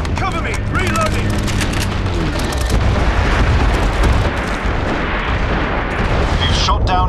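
Artillery strike from the shooter video game MAG, a sustained barrage of loud booms and rumbling blasts rolling continuously under scattered game voices and radio chatter.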